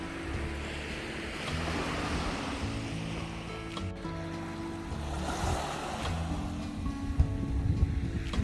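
Waves wash ashore at Lamai Beach on Koh Samui, Thailand, a soft continuous surf hiss mixed with wind buffeting the microphone, growing slightly stronger toward the end, with no voices.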